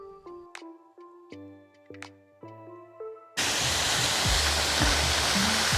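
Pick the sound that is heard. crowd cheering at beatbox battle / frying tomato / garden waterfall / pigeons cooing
garden waterfall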